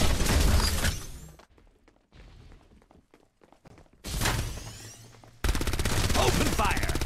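Rapid automatic gunfire in Farlight 84 during a team deathmatch, loud dense bursts at the start and end with a quieter gap of scattered shots and thuds in between.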